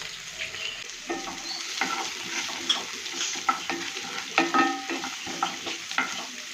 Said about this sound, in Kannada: ಸೂಪ್ ಥರ ಹಚ್ಚಿರುವಂಥ ಈರುಳ್ಳಿ, ಕ್ಯಾಪ್ಸಿಕಮ್ ಹಾಕಿ ಫ್ರೈ ಮಾಡಿ